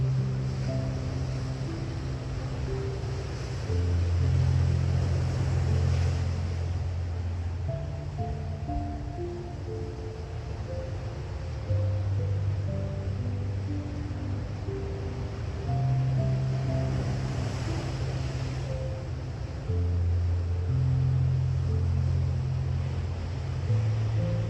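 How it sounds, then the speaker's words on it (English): Ocean waves on a beach, a steady soft wash of surf running continuously beneath calm melodic music, with gentle swells in loudness. "Continue to breathe while you listen to the ocean and the music."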